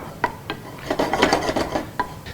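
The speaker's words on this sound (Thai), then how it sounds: "ผัดต่อจนหอมของเรานุ่มดีนะครับ" Shallots sizzle and scrape as they are stir-fried with ground nutmeg in a pan, a steady close rasp of spatula against metal with a few sharper clinks, heard alone with no talk.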